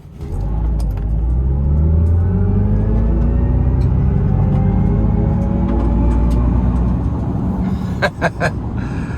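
A 2026 Chevy Silverado EV LT Max Range electric pickup accelerates hard, a loud rising whir and road rumble building steadily from inside the cab, with a few faint clicks near the end.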